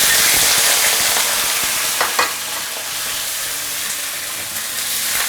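Fish bones hiss and sizzle as they hit hot mixed oil and lard in a home wok, a loud continuous frying crackle with a few sharp spatters and scrapes, no talking.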